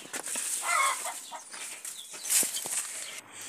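A hen clucks on a farm where cattle are kept, with bursts of wing flapping and scratchy rustling nearby, moderately loud and close with no speech.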